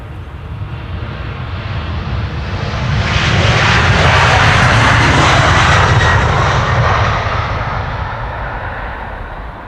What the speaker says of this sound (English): Old school engine sounds.